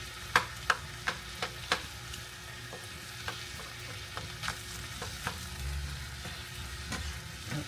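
Dirty rice being stirred and fried in a pan, with a steady sizzle under a series of sharp spoon scrapes and taps against the pan, close and without talk.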